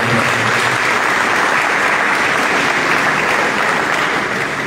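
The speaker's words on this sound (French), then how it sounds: "Je vous demande d'applaudir très respectueusement encore pour la." Loud, dense applause fills a room as a diaspora community gathering cheers a female panelist, steady and sustained from start to finish with no talk over it.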